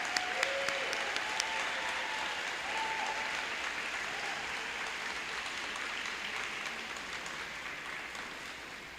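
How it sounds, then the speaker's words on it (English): Sustained audience applause for graduates at a 2021 promotion ceremony, a steady even wash of many hands clapping throughout, with faint voices calling out near the start. "Please give them a huge round of applause for their accomplishments"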